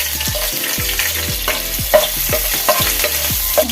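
Chopped garlic fries in hot oil for veg gravy noodles, a steady sizzle broken by rhythmic scraping stir strokes about every half second. The sound is close and fairly loud, with no talking.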